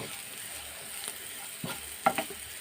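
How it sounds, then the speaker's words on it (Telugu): Sliced bitter gourd fries gently with spice powder in a pan over a low flame, a soft steady sizzle broken by a few faint stirring scrapes and clinks. "ఈ పౌడర్ వేసిన తర్వాత కొంచెం జాగ్రత్తగా సిమ్లో పెట్టుకుని వేయించుకుంటూ, ఇలాగ సిమ్లో పెట్టి వేయిస్తూ మాడకుండా చూసుకోండి."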